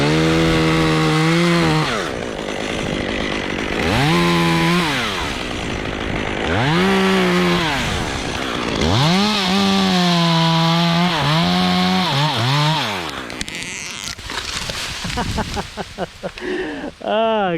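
A chainsaw notches and fells a crooked pine, its engine repeatedly revving up into the cut and dropping back in bursts, loud and close, with crackling wood and rustling near the end.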